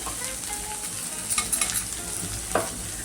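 Onion and garlic frying in oil for a Maharashtrian matki usal, a steady sizzle with a couple of brief stirring scrapes, close and moderately loud, with no talk.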